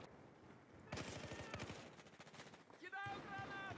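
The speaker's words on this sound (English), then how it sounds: "I heard a Glock." Glock pistol gunfire in Battlefield, a burst of rapid shots starting about a second in, then a short tonal sweep near the end, with no talk over it.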